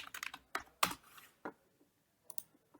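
Typing on a computer keyboard, with a quick burst of crisp keystrokes followed by a few scattered, softer taps, close and alone.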